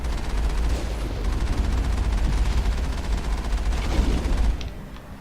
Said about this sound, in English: So a little shooting and cannon shots take him down pretty quick.